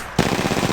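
Rapid automatic gunfire in the Apex Legends video game breaks out after a brief quiet moment, a dense, loud, steady burst of repeated shots that continues to the end.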